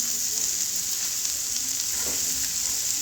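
Onions and masala powder fry in a pan for a masala thokku, a loud steady sizzle with faint stirring scrapes and no talking.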